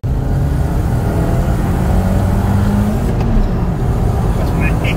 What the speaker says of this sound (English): here it is ripping mad fat fucking burnouts on launch control